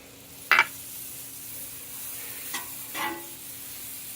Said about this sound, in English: we're going to start by just getting a little butter on the griddle